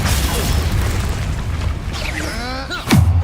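In the video game Hogwarts Legacy, a Confringo spell bursts as a deep booming explosion over a continuous rumbling game soundscape, with a sharp descending whoosh and heavy thump near the end.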